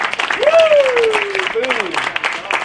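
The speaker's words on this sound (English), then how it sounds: "want to give a big round of applause to our hero, Adam" Audience applause and cheering for a speaker named Adam at a 2014 liberty tour event, dense broadband clapping filling the clip with a loud voice whooping over it.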